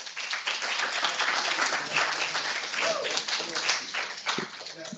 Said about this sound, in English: Could we have a round of applause to welcome Adam